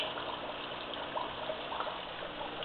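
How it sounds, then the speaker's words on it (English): Aquarium sump siphon and lifter pump drawing water and air, a steady close gurgling, trickling water rush running continuously without pause or talk. "You can see the siphon pulling all the water out, or all the air out. The lifter pump is pulling all the air out."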